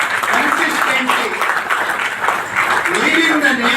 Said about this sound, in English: Let's give a big round of applause for consistently